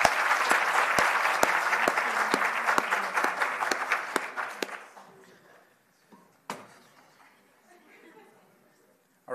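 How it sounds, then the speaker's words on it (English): Symposium audience of researchers gives a round of applause, loud dense clapping with sharp individual claps that thins out and dies away after about five seconds, followed by quiet room noise, a lone sharp clap and faint murmuring. "another round of applause"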